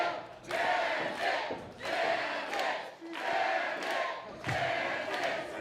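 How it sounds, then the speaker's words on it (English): A large wrestling-event crowd cheers and chants "Bandit" in a loud, rhythmic call repeated about four times, each burst swelling and fading. "certainly hope that the powers that be will listen to this audience as they cheer, Bandit, Bandit, Bandit."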